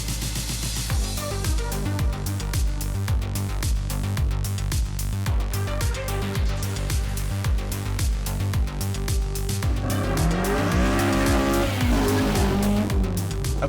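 A Honda Accord Type S with a K24 engine, driving, with a steady loud engine drone and rhythmic pulsing that rises in pitch near the end as the revs climb.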